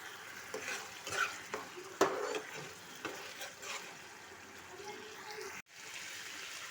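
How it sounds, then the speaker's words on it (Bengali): Whisked yogurt is stirred into masala in a pan for egg korma: a quiet, bubbling sizzle under scraping spoon strokes, with one clack of the spoon against the pan. "ভালো করে মিশ্রণটি নাড়াচাড়া করবেন।"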